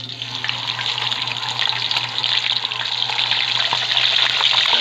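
Food fries in hot oil in a home kitchen, a dense, loud, steady sizzle and crackle throughout with a low hum underneath.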